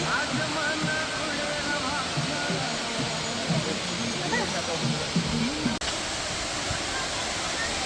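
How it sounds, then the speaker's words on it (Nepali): Tindhara, also called Bahubali, waterfall roars as a steady, close rush of falling water, unbroken across the whole stretch and without clear speech. "बाहुबली झरना भनेर चिनिँदो रहेछ यो तीनधारे झरनालाई।"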